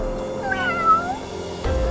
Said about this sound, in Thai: แมวไม่ยอมลงอ่ะ